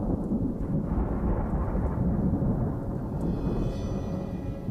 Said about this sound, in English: storms roll in